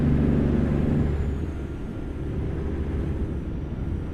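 Kenworth W900 truck, a 1965 Alpha edition, in the American Truck Simulator game: a deep, steady low engine rumble, heaviest at first and then settling into a continuous drone with no talk.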